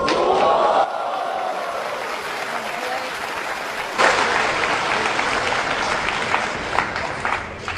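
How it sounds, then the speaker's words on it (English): Thunderous applause from a snooker crowd at the Shanghai Masters final, a dense sustained roar of clapping that swells sharply midway and carries on loud and continuous, with a few cheers rising out of it. "Thunderous applause, and rightly so."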